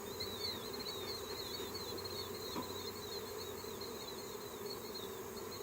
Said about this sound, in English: we've got bees on here as well